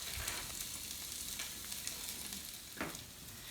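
Onions frying in a pan, a steady close sizzle with soft crackles throughout and one brief louder burst near the end, no voices.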